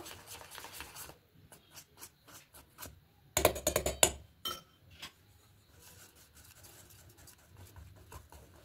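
Spoon scraping and clinking against a bowl while cake batter with baking soda and baking powder is mixed for a Christmas fruit plum cake, in irregular taps with a brief louder burst of stirring.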